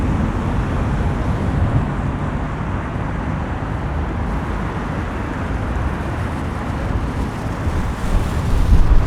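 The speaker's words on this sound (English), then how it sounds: "Oh, it is windy." Strong wind buffets the microphone in a continuous low rumbling roar on a Toronto street in March, steady throughout and swelling slightly louder at the end, with no talking.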